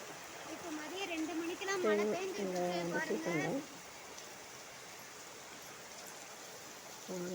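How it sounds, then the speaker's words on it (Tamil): Steady rain falls with a soft, even hiss throughout, while a person talks over it for the first few seconds and briefly again at the end. "பாருங்கள் இப்படி தான் மழை"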